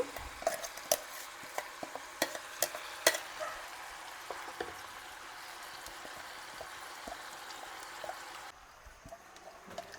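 Chicken sizzles quietly in a pan while a utensil scrapes and taps irregularly, stirring in ground masala for Kodava-style chicken curry; no voices.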